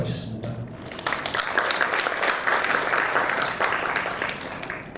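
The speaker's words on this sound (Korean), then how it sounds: "한 분 한 분 소개할 때마다 큰 박수를 부탁드립니다" Audience applause at a Pohang welfare policy forum, a dense burst of clapping from a seated crowd that swells quickly and holds steady, fairly loud and close.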